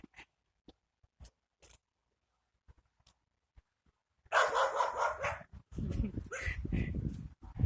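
A dog barks and yips in sharp bursts after a quiet stretch of scattered clicks, with people talking loudly over and between the barking.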